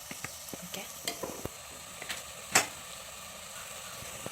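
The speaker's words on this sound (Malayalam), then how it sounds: "നമുക്ക് നന്നായിട്ട് വഴറ്റി കൊടുക്കാം" Turmeric sautés in a pan for tomato rice with a quiet, steady sizzle. Light stirring scrapes and a single sharper clink of a utensil against the pan sit over it, and nobody talks.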